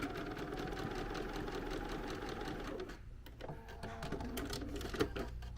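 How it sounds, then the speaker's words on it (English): Steady mechanical chatter of a sewing machine running a short stitch line along the thumb of a small quilted oven mitt, close and continuous, with a brief slowdown midway before it picks up again. "we're just gonna go ahead and just add one more like little stitch line to the thumb"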